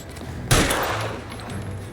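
Gunfire in the crime video game L.A. Noire: one sudden loud shot bursts out and rolls into a ringing, reverberant tail that slowly fades, with no talk over it.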